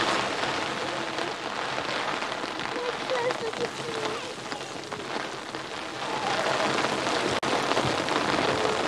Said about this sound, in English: They like playing in the rain.